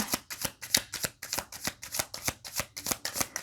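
Tarot cards are shuffled close by in quick regular riffles, about a dozen crisp bursts in a steady rhythm with no talk.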